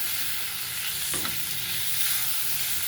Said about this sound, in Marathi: हा टोमॅटोसुद्धा आपल्याला छान असा परतून घ्यायचा आहे